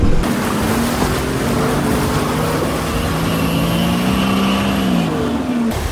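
A 4x4 vehicle engine drones steadily while driving through deep river water, the rushing, splashing churn continuous and loud for several seconds.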